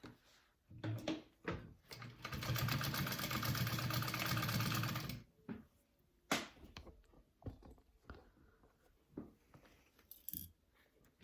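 A sewing machine bastes D-rings onto a backpack in one quick burst of about three seconds, followed by scattered clicks and handling taps of the fabric and hardware.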